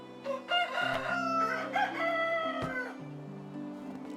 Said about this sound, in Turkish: Bu arada burada tavuklarımız da var ama sorun değil.